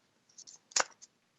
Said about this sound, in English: I'm shuffling the zodiac signs.